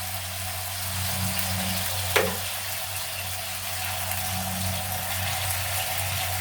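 Chicken tawa pieces frying in ghee on a tawa as spiced stock is added, a steady hissing sizzle with a low hum underneath and one small splash partway through, no talking.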